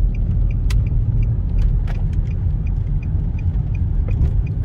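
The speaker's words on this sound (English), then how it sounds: "right now, let's listen to the car" A 2010 Nissan Altima coupe drives along, its engine and road rumble a steady low drone inside the cabin, with faint light ticks and rattles on top.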